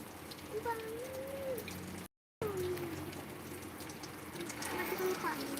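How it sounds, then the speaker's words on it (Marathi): Rain falls steadily as a constant broadband hiss, with voices talking over it throughout and a brief dropout partway through. "बघितलास पाऊस कसा पडतोय"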